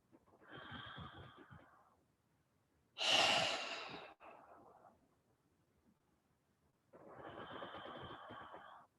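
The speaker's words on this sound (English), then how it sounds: "So I'm going to be using my mouth just to emphasize the breath for a bit." Deep, emphasized breaths drawn in and pushed out through the mouth during a guided meditation session, heard as slow breathy waves with one louder, harsher exhale in the middle and pauses between, close and alone without talk.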